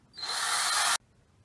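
A power drill whirs at high speed for under a second, then cuts off abruptly into quiet.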